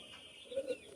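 A pigeon of Pakistani master bloodline gives a brief, faint low coo, alone against quiet background.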